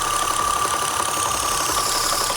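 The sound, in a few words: car engine running with PCV vacuum sucking noise through silicone line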